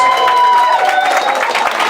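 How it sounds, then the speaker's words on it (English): Wedding guests clap and cheer at a reception, a short dense burst of applause close by with voices mixed in. "give yourselves a massive round of applause."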